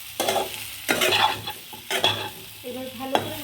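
Spices with coriander powder sizzle in a hot pan while a spoon scrapes and stirs them in uneven strokes, close and moderately loud with a steady frying hiss underneath.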